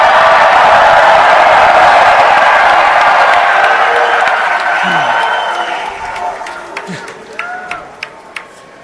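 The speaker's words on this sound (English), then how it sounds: "I'd like to ask all of you to join me in cheering on Easton as he makes his wish come true." A crowd at the NFL Draft cheers and applauds loudly, then the noise fades over several seconds, leaving a few scattered claps and calls near the end.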